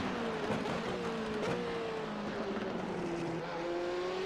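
A Formula Renault 3.5 race car engine screams at high revs in the iRacing game at COTA, its pitch sliding down and up through gear changes and braking, with a second car's engine droning nearby, loud and continuous.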